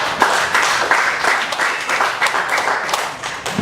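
Audience applause at an awards event for trek organizers, a dense steady wash of many hands clapping, fairly loud and continuous with no talk over it.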